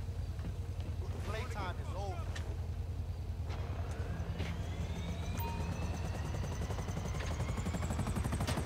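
A helicopter in GTA 5 Online drones with a steady, loud, low rotor thrum and rising engine whine, under occasional bursts of game effects and voices.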